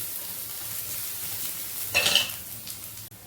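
Onions and slit green chillies sizzle softly in a pan, then a spoon stirs them with a brief scraping clatter against the metal before the quiet frying resumes.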